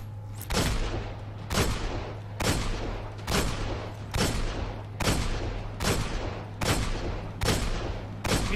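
Rapid, evenly spaced heavy gunshots in Destiny, about ten loud blasts each roughly a second apart, with a constant low hum underneath and no talking.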